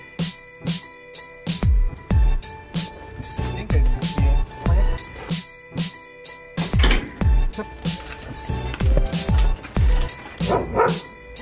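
A pack of about ten dogs at a dog training school barks loudly and without pause, yips and woofs overlapping in a dense, restless chorus close by, with a few whimpers mixed in.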